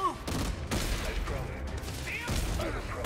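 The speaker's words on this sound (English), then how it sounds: "Oh, it's like a machine gun pistol." A machine pistol in Dead Space 3 fires rapid bursts of shots with heavy low thumps, loud and continuous across the moment amid game clatter.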